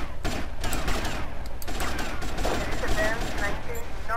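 Gunfire in GTA Vice City, rapid bursts of shots crackling over a dense, noisy background with a voice talking.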